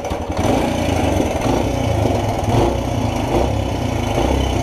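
A small motorcycle engine runs at a rough, steady idle after being kicked over, a loud continuous putter close by with no talking.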